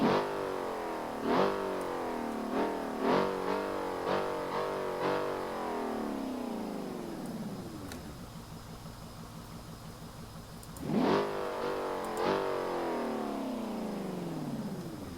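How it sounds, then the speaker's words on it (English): A Chevrolet Corvette Z05 sports car engine in BeamNG.drive revs repeatedly in sharp bursts, then winds down to a low idle before flaring up again with a couple more revs. "Let me just get a good exhaust note on there."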